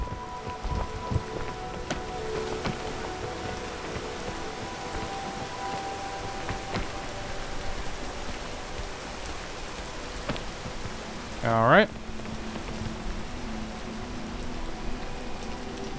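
Rain falls in the video game PEAK as a steady, soft patter across the whole stretch, with a brief louder sweep near the end and a short spoken word over it.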